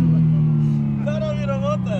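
A hypercar on the Nürburgring holds a strong, steady engine drone while accelerating, with someone talking over the engine throughout.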